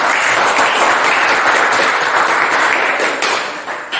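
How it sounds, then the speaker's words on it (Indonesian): Classroom applause for group 4, a dense burst of many hands clapping together, steady and fairly loud before tapering off near the end. "Berikan aplaus untuk kelompok 4"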